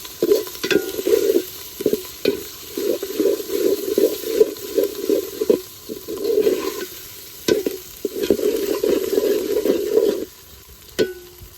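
Cumin paste and ginger-garlic paste fry with spices for chicken biryani, giving repeated bursts of sizzling and stirring scrapes in an uneven rhythm, close and fairly loud, with no talking.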